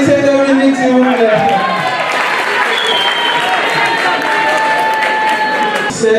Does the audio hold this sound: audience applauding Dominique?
yes